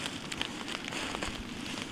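Steady rain falls through a wooded area on a Thanksgiving Day hunt after the snow has melted, a dense, crackling patter of drops on leaves and ground, continuous and fairly close with no talking.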